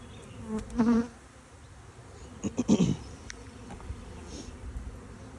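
Honey bees buzz around an opened hive in spring, a faint steady hum with a few louder close passes, alone without talk.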